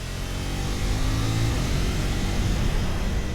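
KTM 390 SMC R single-cylinder motorcycle engine pulling steadily under throttle on an open road just outside town, a continuous loud, rising drone with rider-side wind noise and no talk.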